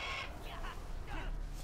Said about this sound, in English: You guys see that bird?